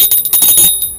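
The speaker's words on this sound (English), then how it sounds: "my lucky lobster bell" A bright bell rings several times in quick succession, loud and close, the metallic tone hanging and fading out over a second; a small good-luck bell shaped or named as a lobster bell, heard alone without voices.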